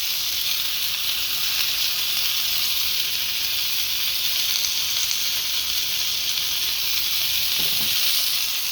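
Potatoes searing in a hot pan, sizzling with a loud, constant hiss throughout, close up, with a faint clink near the end.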